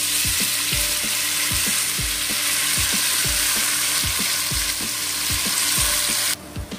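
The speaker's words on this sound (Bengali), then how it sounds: "তো এবার আমি দিয়ে দেবো নারকেল, টমেটো আর লঙ্কা এই পেস্টটা দিয়ে দেবো।" A coconut, tomato and chili paste sizzles loudly in a hot pan. Steady frying hiss is broken by regular, rhythmic scraping stirs about every half second, and the sizzle drops away abruptly near the end.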